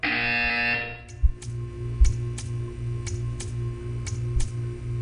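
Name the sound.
buzzer in a video game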